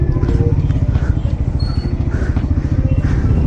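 A Triumph Scrambler 400X motorcycle rides through congested city traffic with a steady, loud engine thrum and low mechanical pulsing throughout, and faint traffic noise around it.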